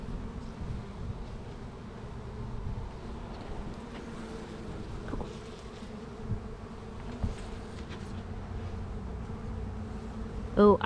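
Honey bees buzz steadily around an open beehive during a hive inspection, a dense continuous hum close by that holds level throughout, with a brief louder burst at the very end.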